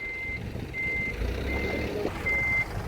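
A truck sounds four evenly spaced reversing beeps while a BMW is loaded onto a car trailer at a workshop. The high beeps sit over a rumbling engine and outdoor background noise.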